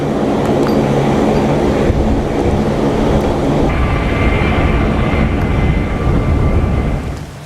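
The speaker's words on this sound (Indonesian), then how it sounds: "nampak juga helikopter HH-060 Pevhawk terbang rendah di wilayah Iran" An HH-60 Pave Hawk helicopter flies low over Iran, its loud, steady engine and rotor roar filling the air without a break and easing off slightly at the end.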